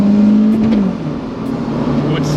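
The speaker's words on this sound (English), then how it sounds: "All right, last draggy run in this car on this fuel." A naturally aspirated Mitsubishi Mirage 1.5-litre four-cylinder running on E85 drones loudly under hard acceleration on a drag run, its engine note climbing, dipping at a shift, then pulling again, heard from inside the car.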